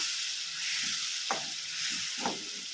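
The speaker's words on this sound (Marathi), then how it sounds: "आणि टोमॅटोची प्युरी टाकूया। त्याला 4-5 मिनिटं शिजून घेऊया आपण प्युरीला," Tomato puree sizzling in hot oil in a pan for dhaba-style palak paneer: a soft continuous high hiss, broken by two short bubbling spurts, fairly quiet and with no talk.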